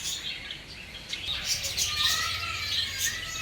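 Zebra finches at a bird park giving thin, high chirps and tweets, several birds calling at once in a steady chatter over a noisy outdoor background, with no one talking.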